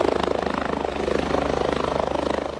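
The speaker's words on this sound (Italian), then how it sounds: "chiamate a monitorare la situazione dall'alto è l'elicottero Drago 81" Firefighters' helicopter Drago 81 flies overhead, monitoring avalanche-risk areas near Treviso; a loud, steady rotor chop with rapid even blade thumps, alone and close, sustained for the whole span.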